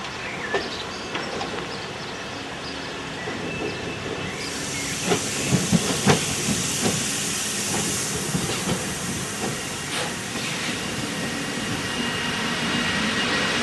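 Electric locomotive BB-15064 leaving its depot near Mons, with a steady hiss and a rising whine, rail clicks and clanks growing as it starts to move.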